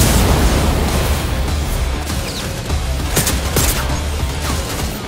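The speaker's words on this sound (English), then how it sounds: "who needs a regular old gun when you have a bloody nail gun?" A nail gun fires in a video game, sending out a dense loud burst of rapid shots and impacts that keeps going with little pause and no talking.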